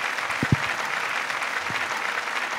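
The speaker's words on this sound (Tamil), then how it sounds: "நல்ல கைத்தட்டல் தாங்க டாக்டருக்கு" Steady applause from an audience at an award ceremony honouring a doctor, a continuous even patter of many hands with a couple of low thumps early on.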